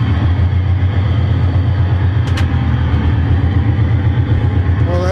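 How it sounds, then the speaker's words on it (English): Loud, steady rumble of a big locomotive engine heard from inside the cab, a constant heavy drone with a brief high clank partway through. "Well, that engine was pretty loud. Big engine, that's why, huh?"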